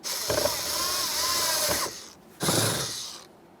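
A ratchet wrench snugs two 7mm mounting bolts on the interior door handle of a 2015-2020 Ford F-150, heard as two close bursts of quick clicking and scraping, the second shorter, with no talk.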